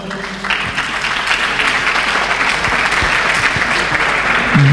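Steady applause from an audience at a Madrid presentation event for a world under-17 club football championship, a dense continuous clapping that fills the room for several seconds without pause.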